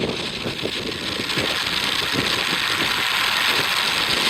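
The first ULA Vulcan rocket ignites at launch, a loud, continuous broadband roar with rumbling, crackling low-end bursts that build steadily.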